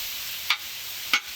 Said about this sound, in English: I just love the sound that of the sizzling.